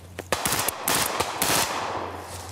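Machine gun fire during French army soldier training rattles in loud, rapid close bursts, several strings of shots separated by short gaps over a low rumble, with no talking.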